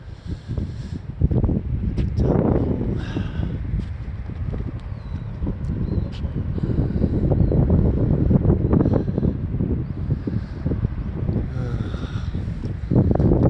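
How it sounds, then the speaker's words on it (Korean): Wind blows at a riverside parking lot in Jangheung, South Jeolla, buffeting the microphone with a loud, continuous rumble that surges and eases throughout. "이제 바람 불고 춥네요"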